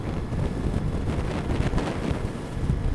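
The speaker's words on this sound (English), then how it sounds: "it's windy." Wind roars steadily against a rider on a Ducati Multistrada motorcycle on a windy day. The buffeting is loud, close and continuous throughout, with no talking.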